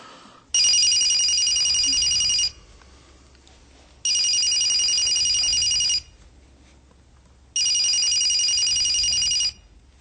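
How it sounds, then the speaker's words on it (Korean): A phone rings in three long electronic bursts, each about two seconds, separated by short pauses; bright, close and loud over a quiet room. "어머니의 손전화기가 경쾌하게 울렸다."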